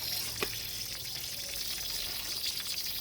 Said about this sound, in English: It's leaking all over the place.